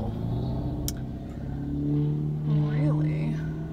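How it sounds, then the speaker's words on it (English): A truck rumbles past outdoors, its engine rising and swelling into a louder pass before easing, while a person talks over it. "That's a truck"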